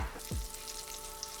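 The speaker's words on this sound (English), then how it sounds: "fry that for 2 minutes on the first side. It's gonna be nice and sizzling." Chicken-fried picanha steak frying in hot oil in a pan, a short, steady close sizzle with a soft crackle and no talking.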